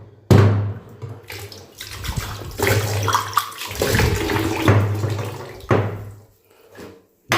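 Glass being washed under a running tap, splashing water in uneven bursts with clinks and knocks of the glass, close and fairly loud.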